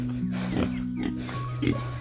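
Pigs in a pen grunt and oink in short, snuffling bursts over a steady low hum, fairly close and moderately loud, with several grunts spread across the moment.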